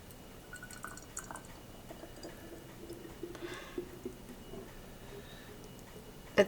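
Thick homemade lotion poured from a container into a sterilized jar, soft wet dripping and squishing plops, quiet and close, with a small clink at the end.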